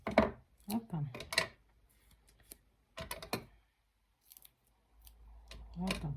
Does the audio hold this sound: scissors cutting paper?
yes